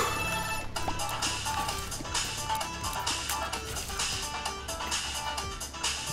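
A phone rings loudly and repeatedly in a steady electronic ringing pattern that runs the whole time, with no talking.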